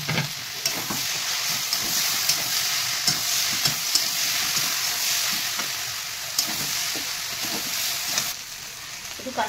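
Ginger, garlic, cumin and dried red chilli paste fry in hot oil with a constant dense sizzle, punctuated by regular spatula taps and scrapes, and no talking.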